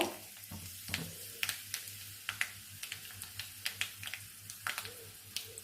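Green chilies go into hot oil already popping with mustard seeds and fenugreek for a tamarind curry. A faint, quiet sizzle is broken by sharp, irregular crackles and pops.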